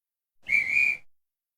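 A single short whistle blast, a clear steady high tone lasting about half a second, close and alone against silence.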